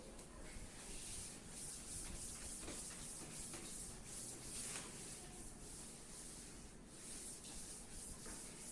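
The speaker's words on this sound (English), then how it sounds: "I am rubbing out this." An eraser rubs out pencil writing on paper with a steady, soft scrubbing in repeated strokes that continue for several seconds, close and quiet with no talking.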